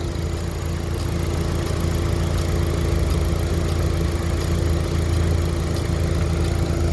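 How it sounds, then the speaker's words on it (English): A rebuilt Opel A20NFT turbocharged petrol engine idling smoothly without misfire, a loud, close, steady drone with an even hum and constant vibration, unbroken and with no talking. "And it's running like this, without misfire, on the number 4."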